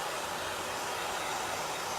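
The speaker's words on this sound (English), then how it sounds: "So I'm gonna use my hair dryer for a few minutes just to dry this a little bit." A hair dryer blowing on a T-shirt printed with chalk paste, a constant loud broadband rush of air, unbroken and close.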